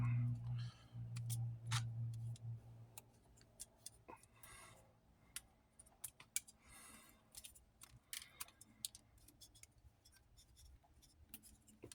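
A craft knife cutting a straight edge for model bricks for a train base, a scattered series of sharp, close ticks and scrapes, with a voice briefly at the start.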